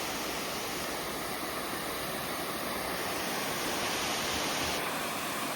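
Icy winter waterfall on Mt Moosilauke gives a steady, full rush of falling water that stays close and loud and unbroken throughout, with no voices.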